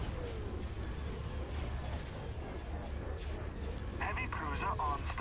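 Ships in the Star Wars strategy game Empire at War trade artillery fire, a constant rumbling barrage of dull booms and crackling impacts under brief game voice lines.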